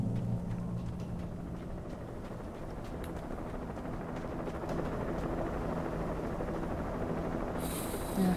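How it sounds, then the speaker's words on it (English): Helicopter in the video game Alan Wake Remastered, a low, steady rotor drone heard in the distance, continuous and fairly faint over the whole stretch with no talk. "I can hear a helicopter somewhere"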